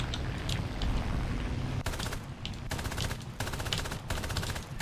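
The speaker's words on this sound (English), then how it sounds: "Oh, it's just ground fire." Anti-aircraft ground fire in War Thunder, rapid machine-gun bursts in several strings separated by brief pauses, steady and fairly distant, over a low engine drone.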